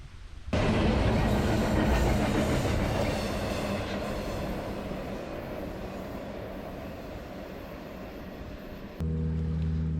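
A train rumbles past nearby, a loud continuous roar with rattling wheels that fades slightly before ending abruptly.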